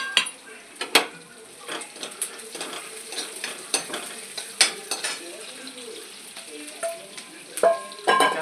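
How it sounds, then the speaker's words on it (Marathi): Chopped onion and coriander sizzle softly in a pan as a spoon stirs and scrapes the metal, with repeated clinks and a gentle frying hiss running underneath. "आता आपण कांदा टाकला"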